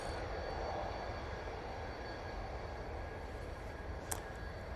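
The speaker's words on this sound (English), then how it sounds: "Turkish Airlines A321 Neo going back off to Istanbul." A Turkish Airlines Airbus A321neo departs Manchester Airport bound for Istanbul, a distant, steady low engine roar and rumble, fairly faint and unbroken, with one brief sharp click near the end.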